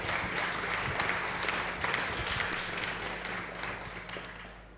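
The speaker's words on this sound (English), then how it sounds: "one more time, applause for Vicky" Audience at a tech conference livestream gives a speaker a steady round of applause, moderately distant and even, gradually fading out over several seconds.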